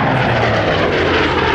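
A warbird aircraft's engine roars loud and steady as it flies past at an air show, a dense continuous drone with no voices.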